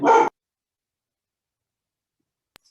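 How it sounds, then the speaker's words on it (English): A pet dog in a home gives one short, sharp bark at the start, followed by near silence and a faint brief sound at the very end. "You just woke my dog up."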